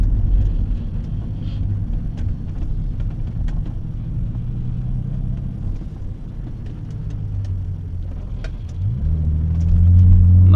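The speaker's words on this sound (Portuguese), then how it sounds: "é o ronco do motor V6" A 2005 Mercedes SLK with a 3.5 V6 engine gives a loud, steady, deep rumble close by, with wind noise over it, building toward a heavier roar at the end.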